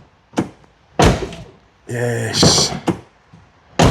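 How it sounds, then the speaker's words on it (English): Door of a BMW E36 328 coupe, several solid thunks and clunks as it is opened and shut, with a brief spoken word between them. "I should know when I open the door because the window should pop down."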